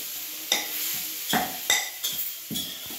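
Ambadi greens stirred and roasted in a pan, with a series of about five distinct scraping knocks of a spatula against the metal at a slow, uneven pace over a faint background sizzle.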